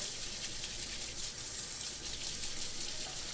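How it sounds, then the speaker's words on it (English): Tap water runs continuously while carrots, kale, celery, ginger, apple and cucumber are brushed and rinsed for juicing. The flow is a close, even gushing hiss without pauses or talking. "I give each of them a quick brush under water, just to rinse off anything that might be on there"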